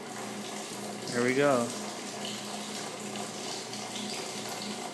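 Washing machine pumping out its water, a steady gush and trickle of draining water heard close and continuously, with a short spoken phrase early on.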